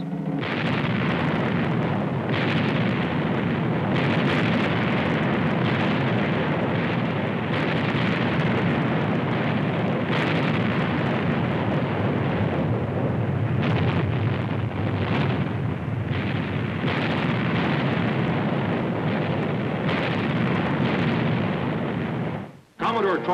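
Naval cannon fire booms almost continuously as two sailing frigates exchange broadsides. The heavy, overlapping blasts last the whole stretch, and narration runs underneath.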